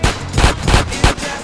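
Gunfire in GTA San Andreas, a rapid burst of about four loud, close shots in quick succession with no talk.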